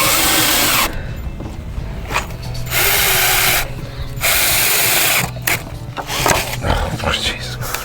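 A power drill drives screws into raised garden beds built from scrap wood, whirring in loud bursts, stopping and starting several times with brief ratcheting clicks between runs.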